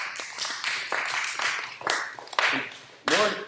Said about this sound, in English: We need more enthusiastic applause